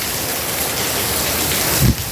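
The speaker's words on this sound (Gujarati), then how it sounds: "વરસાદ તો સારામાં સારો પડે છે" Heavy unseasonal summer rain pours down steadily as a dense, continuous hiss, with a brief louder gust or splash near the end.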